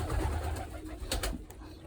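A young pigeon makes short, breathy cooing calls close to the microphone over a rough, noisy background.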